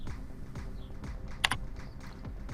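Someone types a value on a computer keyboard: a short run of soft, close keystrokes with one sharper, louder click partway through, in a quiet room.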